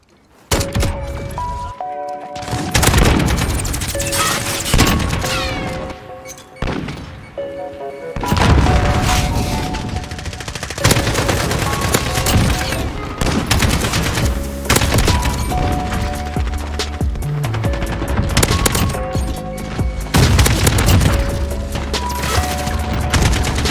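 Rapid automatic fire from an AK rifle with 40-round magazines in Call of Duty, loud booming bursts with short gaps, layered with game effects and impacts.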